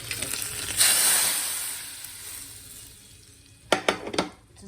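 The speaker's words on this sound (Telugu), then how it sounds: "తాలింపు వేగిపోయింది" A hot tempering of curry leaves, garlic and asafoetida hisses sharply as it is stirred into masoor dal with cucumber. The sizzle swells early, then fades, and a few quick metallic clinks of a pan or spoon follow near the end.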